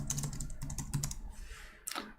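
Quick bursts of typing on a German-layout computer keyboard, close and clear, with light clicking keystrokes in irregular clusters and a brief pause before a final short flurry.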